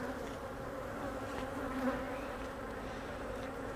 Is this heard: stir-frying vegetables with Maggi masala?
no